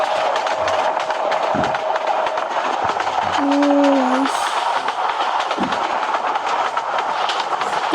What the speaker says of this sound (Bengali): আরো একটা ট্রেন আসছে, আমাদের পাশ থেকে যাচ্ছে।